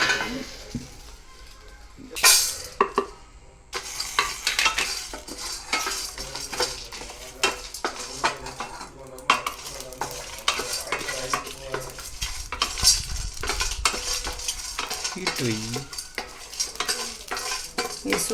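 Coriander, chili and curry masala powders with a little salt are dry-fried in an empty pan, with busy, continuous scraping and stirring, metallic spoon clinks against the pan and a light crackle throughout, close and fairly loud.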